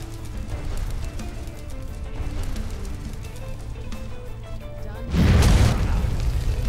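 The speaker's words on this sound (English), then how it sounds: "Oh my god, the explosion, let's go!" A heavy, booming explosion in Skyrim erupts about five seconds in, loud and low, after a stretch of game sounds and rhythmic clatter, then rumbling on afterward.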